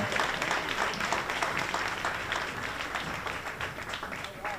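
Sustained crowd applause for New York Mayor Eric Adams at a Jamaica 60 media launch in New York, a dense wash of many hands that stays strong throughout and eases only slightly toward the end.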